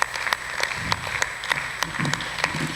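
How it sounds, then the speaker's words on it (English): An audience at a debate event gives a short round of applause, with quiet, scattered claps heard alone and no talking. "please let's give them a round of applause"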